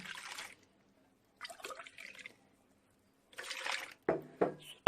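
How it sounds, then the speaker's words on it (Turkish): Water pours in short bursts into a deep bowl of milk for poğaça dough, three splashy pours separated by pauses and followed by a few louder drips and knocks, close up, with no speech. "Suyumuzu döktük. Üzerine bir su bardağı su."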